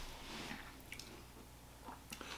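Microwaved pork rinds being crunched and chewed close to the mic, a few soft crisp bites and squishy munching sounds, fairly quiet, with no talking.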